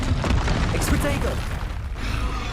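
Magic-spell blasts in Hogwarts Legacy, with a booming burst and low rumble filling a short stretch of combat, busy layered effects throughout.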